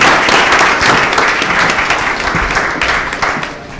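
Audience applause at a Chesterfield Township board meeting for the Anchor Bay Junior ROTC cadets, a dense steady wash of many hands clapping throughout, loud and close, tapering slightly toward the end.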